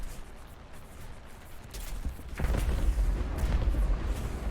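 A bomb explosion in the War Thunder video game sounds as a deep, rumbling boom that swells midway and keeps roaring, with no voices.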